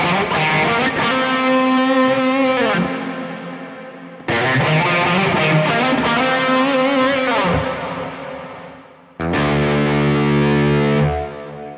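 Electric guitar played through a Neural DSP Mesa Boogie Mark IIC+ amp plugin with reverb, heavily distorted sustained chords and riffs in three loud phrases, each ringing out with a reverb tail before the next begins.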